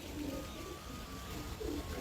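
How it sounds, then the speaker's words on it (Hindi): A pigeon coos in soft, low, rounded phrases, two clear bursts close by over a steady background hum and murmur, with no clear speech. "ले जी, ये कबूतर देखें"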